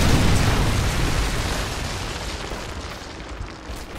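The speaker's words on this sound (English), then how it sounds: "Predator missile inbound." A Predator missile explodes in the video game Modern Warfare 3, a loud, dense blast at the start that rumbles and slowly fades over several seconds.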